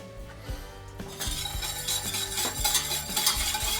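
A utensil stirs sugar into water in a small saucepan over a flame for almond granita syrup, with quiet scraping swirls and sharp clinks against the metal pan, alone and close.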